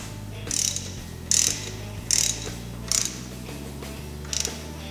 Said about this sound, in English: we're going to snug that bolt down.